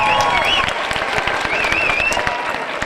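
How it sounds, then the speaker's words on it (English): At a high school commencement in Santa Ana, a large crowd applauds the graduating students with loud, sustained clapping, scattered cheers and whistles ringing through it. "Give yourselves a round of applause."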